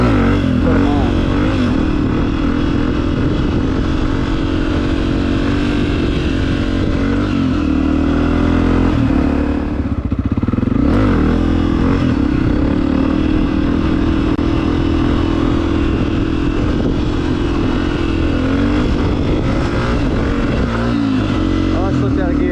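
Honda CRF250F dirt bike from 2020 ridden at a steady, easy pace, its engine droning continuously close by with a brief dip in the middle, while its rider talks over it.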